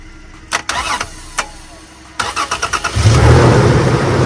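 A truck's starter motor cranks in short bursts, then the engine catches and settles into a loud, rumbling idle nearby.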